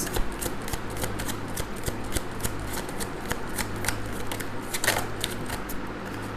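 Tarot cards being shuffled by hand, a close, continuous run of rapid riffling flicks and snaps with a faint steady hum underneath.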